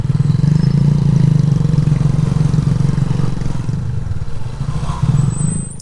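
A motorcycle ridden along a rural road through mustard fields near the Madhupur forest, its engine a steady, loud, close drone that dips slightly and swells again.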